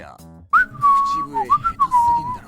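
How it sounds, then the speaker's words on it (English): Video game character in Persona 5 X whistling a wavering, off-key tune, clear and close, after a brief low musical note. "You're awful at whistling."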